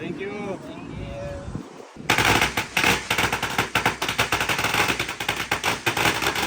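Firecrackers go off at a Buddhist temple in Thailand. After a quiet start, a dense, loud, rapid barrage of sharp cracks and pops sets in and keeps going for several seconds.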